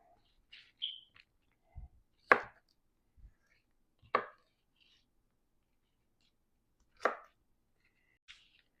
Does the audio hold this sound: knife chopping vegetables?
yes